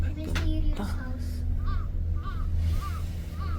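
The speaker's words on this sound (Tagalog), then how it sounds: "May uwak." Crows caw outdoors on a scenic trip in Japan, four evenly spaced hoarse caws at moderate distance over a steady low rumble.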